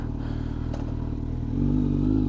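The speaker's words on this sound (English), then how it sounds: "Let's give it a few revs. Sounds super nice." A warmed-up Kawasaki Z900 motorcycle with a Leo Vince GP Corsa slip-on exhaust, idling with a steady rumble and then rising into a short, louder rev near the end, close by with no talk.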